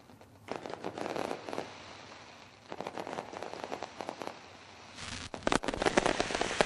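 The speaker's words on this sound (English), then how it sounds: "Lone Wolf Fireworks lighting up the sky" Lone Wolf Fireworks bursting over a speedway at a sprint car race night, a dense crackling barrage of pops and sizzles coming in waves, loud and close with sharp bangs toward the end.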